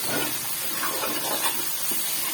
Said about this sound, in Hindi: यहाँ पे हम इसमें डालेंगे थोड़ा सा पानी का छटा देते हैं इसको।